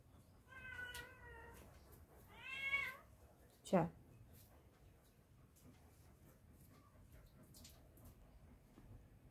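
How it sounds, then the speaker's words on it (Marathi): A house cat meows several times nearby, a few drawn-out cries spaced over a few seconds, followed by quiet background hum. "घर मांजर पाळलेला आहे त्याच्यामुळे तो ओरडतोय."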